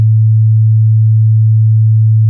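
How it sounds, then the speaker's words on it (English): Plain sine wave from a Serum synthesizer, a single pure steady low tone held at constant loudness with no variation, sounding alone. "I've got a setup here where I've got a serum that's just running a plain sine wave"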